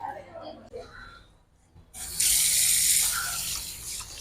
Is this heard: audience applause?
no